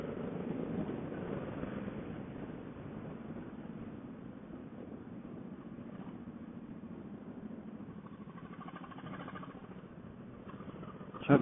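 Harley-Davidson Fat Boy motorcycle engine chugging while riding, a faint, muffled low rumble that holds steady throughout, with a brief louder bump at the very end.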